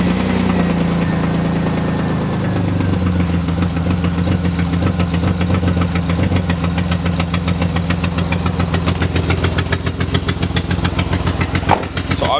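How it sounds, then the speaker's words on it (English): A BMW E90 M3 idles loudly after a cold start, its steady engine drone overlaid by a rapid ticking, puffing rattle from an exhaust leak at the rear headers, recorded close up without speech. "that massive noise, as you can tell, is the exhaust leak, which is from the back headers"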